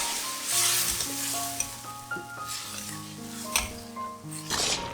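Vegetarian sea cucumber stir-fried in a pan, steady sizzling with repeated scraping and clinking of a spatula against the pan, close and moderately loud.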